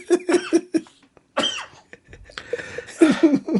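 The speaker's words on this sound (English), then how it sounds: "I honestly thought it was going to be a couple of quick coughs" A podcast co-host caught in a coughing fit, with loud, close, rapid bursts of harsh coughs in clusters, a short gasping pause, then more coughing.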